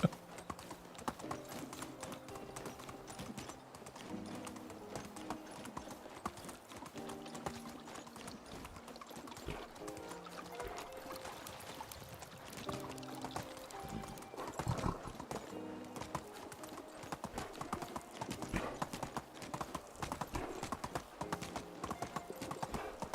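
Horse hooves clip-clop in a steady rhythm in the medieval survival game Medieval Dynasty, layered over a continuous game soundtrack with mechanical clicks, close and persistent.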